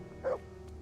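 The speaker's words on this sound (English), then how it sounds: "Dog, stop barking." A dog barks once indoors, a short muffled bow-wow rising over a steady electronic hum and quiet room noise, fairly faint and at some distance.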